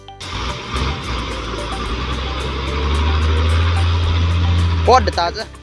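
A large logging truck grinds through a thick, muddy river crossing, its heavy engine droning low and steady throughout and swelling in the middle, with a brief burst of voice near the end.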